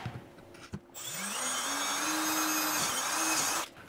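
A power drill bores a guide hole for a roof rack on a Jeep Wrangler, spinning up after a brief clatter into a steady whining hum that holds for a few seconds before cutting off.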